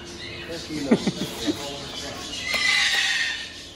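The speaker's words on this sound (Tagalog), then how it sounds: "Nag-ingay na yung ano, loro." Harsh, rising squawks from a parrot burst out in a quick cluster, followed by a longer hissing, raspy call, with some background voices.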